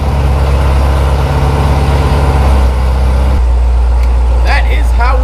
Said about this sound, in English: let's try a cold start in the garage